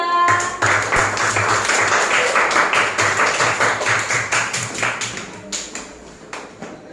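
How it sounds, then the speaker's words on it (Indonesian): An audience of students applauds a student group in a classroom, a dense burst of hand clapping that starts loud and gradually thins and fades toward the end. "Tepuk tangan untuk kelompok 3."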